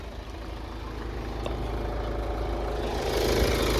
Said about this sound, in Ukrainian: Ось так у нас працює двигун.